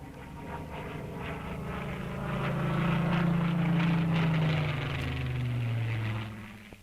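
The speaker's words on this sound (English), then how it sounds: "And the average Britisher knew and welcomed the Spitfire sound." A Supermarine Spitfire aircraft engine droning as the plane passes, a steady propeller roar that swells and peaks midway, then shifts lower in pitch and fades slightly.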